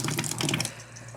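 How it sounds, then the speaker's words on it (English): Water gushes from a tap in a holiday cabin, a close, steady splashing stream that thins out toward the end. "This left tap turns on the water."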